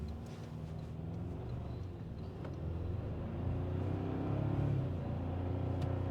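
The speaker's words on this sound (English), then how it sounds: "We're going to do a little bit of acceleration here as we pull out into traffic." A 2024 Toyota Tacoma TRD Sport pulls out into traffic and accelerates, its engine a steady low rumble that rises gradually in pitch and loudness from inside the cabin, with no voices.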